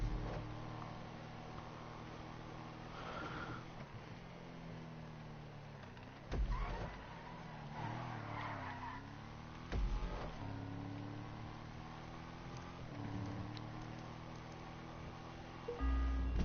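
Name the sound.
drift car Yosemite skidding in video game GTA Online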